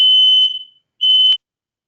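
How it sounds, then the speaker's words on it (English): A home fire alarm goes off during an online webinar: two loud, shrill electronic beeps, a long one followed by a shorter one, each separated by silence, with no voices present. "that's my fire alarm"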